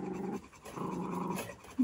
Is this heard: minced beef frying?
no